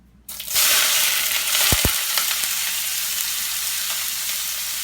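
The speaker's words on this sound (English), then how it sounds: "We're going to add it to the pan. That pan is hot. Go ahead and add your onions." Onions hit a hot pan with a sudden loud hiss, then a steady sizzle as they saute, with a couple of brief knocks early on.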